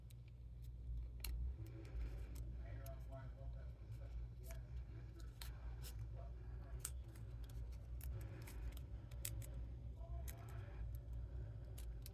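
Scissors trim die-cut paper for a handmade Christmas card, giving a series of quick, faint snips and ticks at irregular intervals over a low steady hum.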